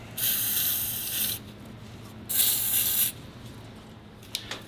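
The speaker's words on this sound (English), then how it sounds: "Let's go ahead and button up our fuel injector lines." Ratchet wrench working on the fuel injector lines of a John Deere 1050 tractor's mechanical diesel engine, heard as two quick bursts of fast clicking, close and fairly loud, separated by a short pause.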